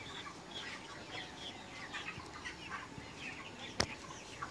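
Broiler chickens on a poultry farm cluck and chatter continuously, many birds close by at a moderate level, with one sharp click near the end.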